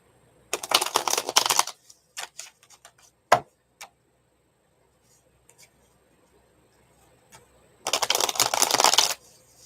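Tarot cards being shuffled in two loud riffling bursts with quieter taps and card handling between; the cards are sticking.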